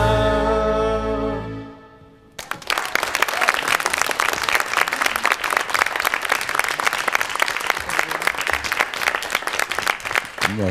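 Applause from a jury panel after a Christmas carol is sung, starting abruptly after the last held sung note fades and going on as steady, dense, fairly loud clapping with no talk.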